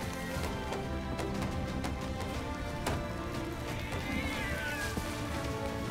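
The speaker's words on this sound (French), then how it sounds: "Le chat il est pas content." An upset cat meows amid busy game sound on a ship during a Ghost Fleet event in a sailing game. The meow sits close and clear, partly masked by steady background noise and scattered knocks.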